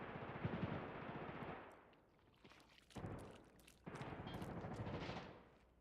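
Automatic gunfire rattles in a shooter video game played under a hardcore ruleset. Two long, dense bursts are split by a quieter gap with scattered thuds, heard at moderate loudness with no talk.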